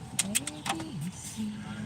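Pigeon coos and short bird chirps from birds outside a parked Jeep, a few bright calls early and low rolling coos through the rest, fairly close, with a voice present.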